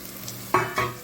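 Green chili and peanuts hit hot oil in a pan, with two short stirring scrapes over a soft sizzle.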